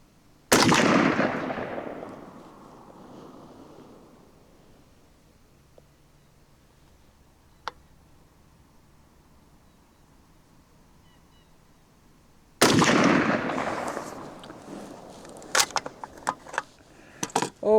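Zastava ZPAP M70 AK-47 rifle with walnut furniture firing outdoors: one loud, sharp shot with a long decaying echo, then after a long quiet gap another loud report followed by a quick irregular cluster of cracks and clatter.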